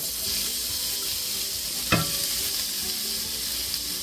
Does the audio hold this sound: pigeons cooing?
no